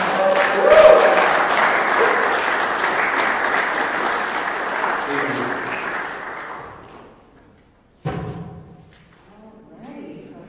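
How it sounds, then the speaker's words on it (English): Audience applause fills a room at a senior capstone event, steady dense clapping that fades out, followed by a brief burst of talk. "So I'd love if we could give Ryan one more round of applause."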